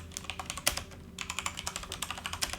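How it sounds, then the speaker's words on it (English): Rapid clacking of keys on a computer keyboard, close and steady with irregular bursts of keystrokes, no voices. "You'll type in GitHub Desktop."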